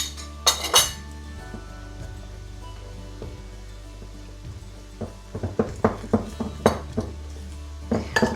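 Flour batter for crispy fried chicken is whisked in a bowl to break up lumps, with sharp clinks and taps of utensil against the bowl, sparse at first and then quicker in bursts, close and alone.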